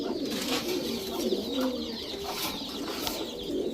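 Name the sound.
white racer female pigeon cooing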